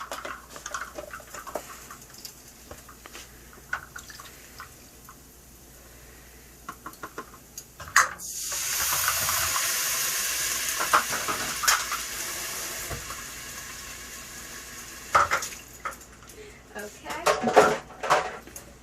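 Unsalted beef stock hits a hot pan holding fennel for a New York style lasagna, raising a sudden broad hiss of sizzling that fades over several seconds, followed by scraping stirring sounds while a person talks.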